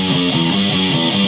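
A slow, distorted electric guitar plays a short rhythm riff, a few chugging notes running down the fretboard, loud and close with no talking.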